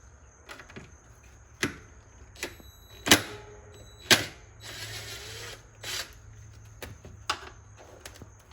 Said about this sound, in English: we're gonna go ahead and take the blower motor off